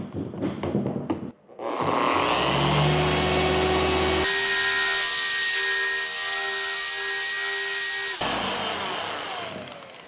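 A machine polisher works out 2000-grit sanding marks with Ultracut compound, its motor whining steadily and close, shifting pitch as the load changes and spinning down near the end.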